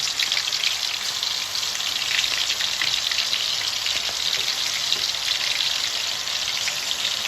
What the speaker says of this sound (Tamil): இப்போ சிக்கன் ஃப்ரை பண்ணலாம்